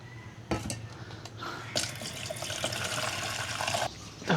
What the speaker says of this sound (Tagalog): Tapos lalagyan po natin ng tubig.